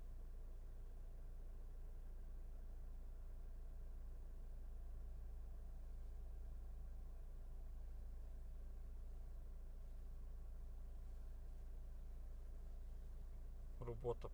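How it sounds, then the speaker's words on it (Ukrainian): A 2020 Volkswagen Tiguan Allspace 2.0 TDI diesel with a DSG gearbox idles with a steady, low, faint rumble that stays even throughout, with a brief clatter right at the end. "Запущу двигун."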